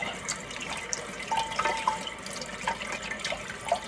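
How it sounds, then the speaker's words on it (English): A whisk rinsed under a running kitchen tap while making mac and cheese, giving a continuous splashing water stream with small drips and clinks of metal, fairly close, with no talk. "It hasn't been rinsed enough. It needs more rinsing."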